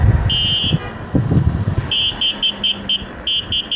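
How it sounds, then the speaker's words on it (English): Teverun Fighter Supreme 7260R electric scooter horn, a series of short high electronic beeps sounding in quick repeated bursts after a brief longer tone, close and fairly loud over light road noise. "Now the horn is not loud enough"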